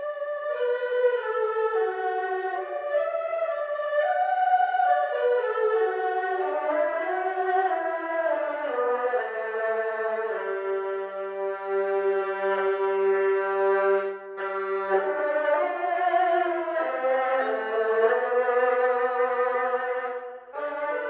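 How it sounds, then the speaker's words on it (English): A sampled zhongwu, the Chinese orchestra's viola-like fiddle, plays long sustained bowed notes in a low-mid register, several layered voices holding and sliding between pitches, warm and continuous with no talking. "Let's move on to the zhongwu, which is basically a lower version or the viola of the Chinese orchestra"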